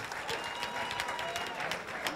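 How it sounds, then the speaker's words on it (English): Fans at a boxing match applaud both fighters after six rounds, with steady clapping and some crowd noise at moderate level, while an announcer's voice carries faintly underneath. "how about a round of applause for both of these fighters?"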